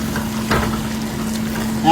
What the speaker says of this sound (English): I'm just going to go ahead and stir it in.